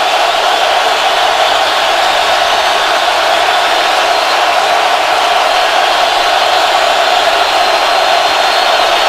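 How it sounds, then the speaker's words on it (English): Stadium crowd roaring after a Seattle Seahawks touchdown against the New England Patriots in an NFL game, a dense, loud and unbroken wall of cheering that holds steady throughout. "This crowd is going nuts"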